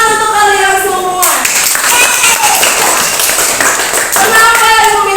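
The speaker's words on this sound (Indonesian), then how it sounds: "tepuk tangan untuk kalian semua." A classroom of schoolchildren clapping their hands together, rapid and loud, with a voice heard before the clapping starts and again as it fades.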